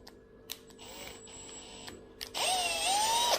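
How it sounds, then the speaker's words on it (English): A power drill bores a hole into a 500 litre tank, a few brief clicks and taps giving way to a steady, rising whine as the bit bites in, fairly close, with no talk. "We are going to drill that a little bit higher."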